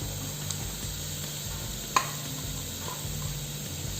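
Grated carrot frying lightly in a pan for vegetable momos, giving a steady soft sizzle with faint stirring scrapes and one brief clink of a utensil.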